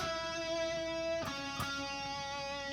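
Electric guitar playing a lick copied from a synth lead, with slides, pull-offs and hammer-ons: a sustained, smoothly gliding tone with a couple of soft note attacks, quiet and alone.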